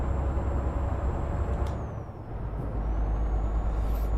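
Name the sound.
truck braking, from the video game Euro Truck Simulator 2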